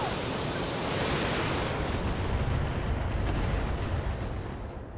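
Mech weapons firing in Battletech, a sustained roaring wash of blasts and explosions blending into a continuous dense rumble, loud throughout with faint high pings trailing off near the end.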